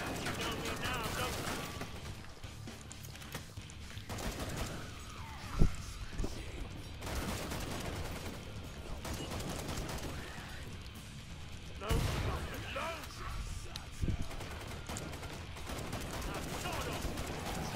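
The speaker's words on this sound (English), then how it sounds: "I shot you in the face!" Gunfire in the Killing Floor 2 co-op shooter game, bursts of rapid shots and sharp bangs scattered over the clip, with loud impacts around the middle and end, mixed with chaotic game noise and voices.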